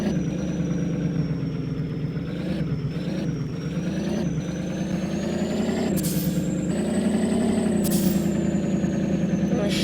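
A rusted Chevy truck runs at a steady idle. The engine rumble is moderately close and continuous, with faint hissy bursts partway through.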